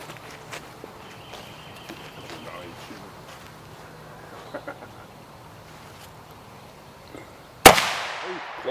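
Tannerite packed into a watermelon is shot from about 30 yards and explodes in one sudden, loud blast late in the clip, trailing off into a long rumbling decay after quieter outdoor rustling and footsteps.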